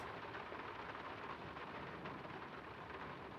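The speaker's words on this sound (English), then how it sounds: "It's getting late, and the rain's not abating." Steady rain pours down with a low rumble of thunder in the game Draugen, a continuous dense wash of sound, faint overall and without voices.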